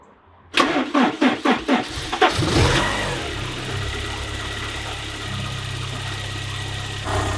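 An old Porsche 944 engine cranks in rapid stutters, catches with a rev, then settles into a steady close idle.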